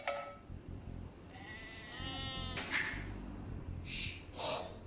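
Sheep bleat repeatedly in a medieval real-time strategy game, several distinct calls close together over game ambience and a game voice announcement, with a sharp click midway.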